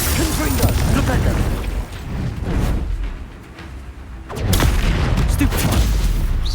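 Spell-casting combat in Hogwarts Legacy brings dense booms, blasts and crackling impacts layered one after another, with a brief lull before the clashing bursts pick up again.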